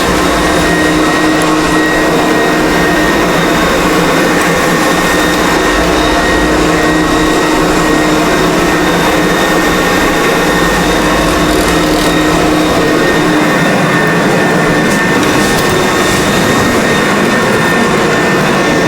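A hot water extraction carpet cleaning machine runs continuously at close range, a loud, steady whining roar with a hissing suction tone that holds for the whole stretch without pause.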